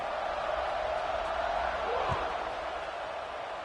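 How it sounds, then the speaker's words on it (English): Football stadium crowd at Texas A&M vs Clemson, buzzing after a score: a broad, steady roar of many voices holding at an even level throughout, with one faint low thump near the middle. "this crowd is buzzing after that last score"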